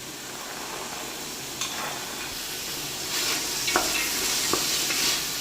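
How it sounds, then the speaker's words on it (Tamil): Chopped vegetables stirred and sautéed in hot oil with a little yogurt for vegetable biryani give a steady close sizzle, with a few scraping stirs of the spoon in the pan and no talk. "இப்போ அதை நல்லா வதக்கி விட்டுக்கலாம் இப்போ எண்ணெயிலே நல்லா ரெண்டு நிமிஷத்துக்கு நல்லா வதங்கி வரட்டு காய்கறிலாம்"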